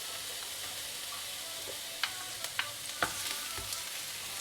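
Mushrooms and garlic stir-frying in a pan, a soft steady sizzle with a few scraping clicks of the utensil near the end, fairly quiet and without talk.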